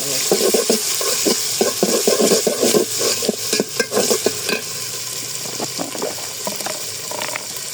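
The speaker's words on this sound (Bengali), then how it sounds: "আদা রসুন দিয়ে ভালো একটু কষানো" Ginger and garlic fry with onion in a pan, scraped and stirred with a run of quick, loud scratching strokes over a wet sizzle that eases off toward the end.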